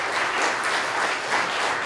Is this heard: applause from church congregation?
yes